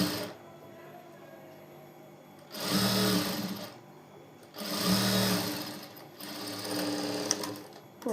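A sewing machine stitching a front fabric piece during tailoring: three loud whirring runs of several seconds each, separated by quieter pauses with a faint background hum.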